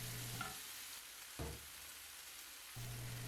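Vegetables, tomatoes and peppers sauté in a pan with a continuous close hiss and sizzle, broken by a few short stirring clatters, with no voices.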